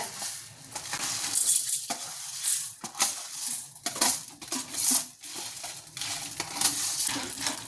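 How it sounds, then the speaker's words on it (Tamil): Chana dal and urad dal frying in oil for a mudakkathan keerai thuvaiyal, with steady sizzling, scraping stirs and spoon clinks against the pan, close and fairly loud throughout. "எண்ணெய் ஊற்றிருக்கேன் அதில்"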